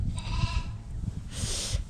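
Sheep bleat in a sheepfold, two separate bleats close by over a low background rumble.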